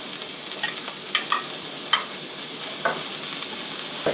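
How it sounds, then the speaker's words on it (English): Pork and Chinese sausage bao filling stir-frying in a pan, a close hissing sizzle broken by a few distinct spatula scrapes and taps. "We're going to stir fry the filling. So first put the pork into the pan."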